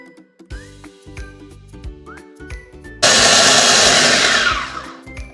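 A kitchen blender grinds spice paste for cooking, starting abruptly after a few seconds of clinks and handling noises and then roaring loudly and steadily up close until it begins to ease off at the end.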